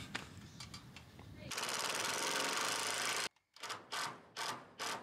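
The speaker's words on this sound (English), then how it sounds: "Hey Junie, hand me that drill." A power drill whirs in a steady burst for a couple of seconds, followed by short chattering pulses of the motor, close by, with faint background noise from a chicken-run build.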